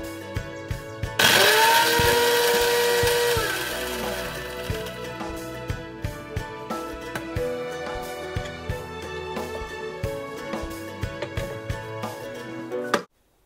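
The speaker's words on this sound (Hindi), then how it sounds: "उसके बाद इन सभी मसालों को दाल के साथ हम ग्राइंड कर देंगे।" An electric kitchen grinder whirs loudly as it grinds lentils with spices, salt and turmeric, a steady motor roar with rattling pulses that gradually settles and shifts in pitch before stopping abruptly.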